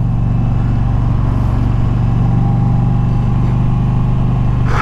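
A 2020 Indian Challenger motorcycle rides through a curving highway exit off Interstate 94, its engine a steady, loud, continuous low drone with wind noise throughout and no talking.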